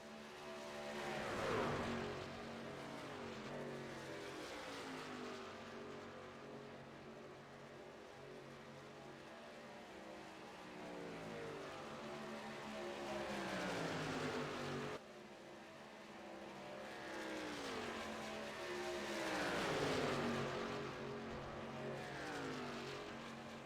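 Several race cars rolling down pit road at a race: engines droning and shifting pitch as cars pass, moderately loud and continuous, with overlapping passes and no talking.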